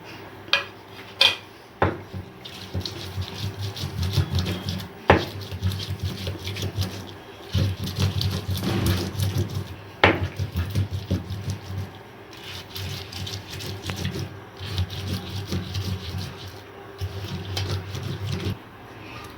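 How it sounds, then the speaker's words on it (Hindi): Kachri being ground by hand with chilli and garlic on a stone, irregular knocks, scrapes and grinding rubs at close range, with sharp clacks scattered through, no talking. "अब काचरी के साथ इनको पीसेंगे।"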